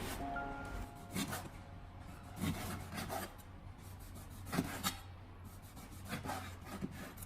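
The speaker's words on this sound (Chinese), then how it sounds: "我们将五花肉清洗干净以后，接着给它直接的切成薄片" A knife slicing fresh pork belly into thin slices on a board, with a series of short, rasping cuts that come in uneven bursts over a steady low hum.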